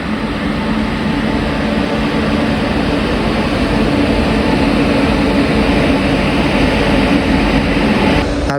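Twin WAG9 electric locomotives from the Kazipet loco shed pass near Bekal Fort, making a loud, close, continuous broadband rumble and roar that holds steady throughout, with no voices heard.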